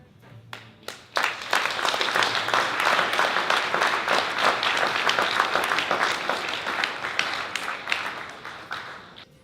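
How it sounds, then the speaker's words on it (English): An audience at a 20-year celebration of a learning initiative breaks into applause, a few scattered claps building quickly into sustained, dense clapping that holds steady and then begins to thin toward the end. "Please give yourselves a round of applause"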